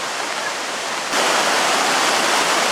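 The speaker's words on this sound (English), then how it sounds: "More rushing water here" Glacier meltwater from Briksdal Glacier in Olden, Norway rushes down a waterfall as a loud, steady roar that swells noticeably partway through, with no voices.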